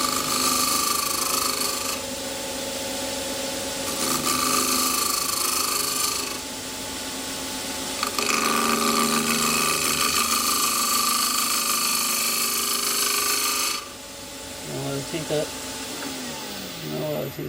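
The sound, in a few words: spindle gouge cutting wood on a lathe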